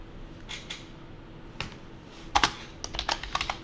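Computer keyboard typed on while searching for a crypto coin's price: a few scattered keystrokes, then a quicker burst of crisp, close clicks in uneven rhythm, fairly quiet overall.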